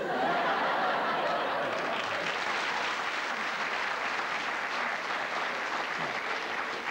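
A television studio audience applauding during a 1982 Friday night chat show, dense sustained clapping with a little laughter mixed in, loud and continuous throughout.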